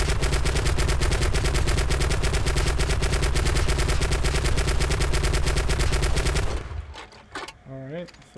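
Rapid sustained automatic gunfire in Delta Force Xtreme 2, a loud unbroken machine-gun burst with evenly spaced shots that cuts off abruptly, followed by brief scattered sounds and a voice.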